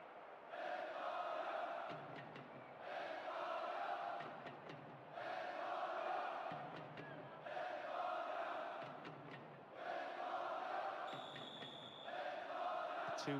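Crowd noise in the PES 10 football video game during a Spain versus Argentina World Cup match, a restless stadium murmur that swells and dips in repeated waves over about thirteen seconds, with a commentator talking over it.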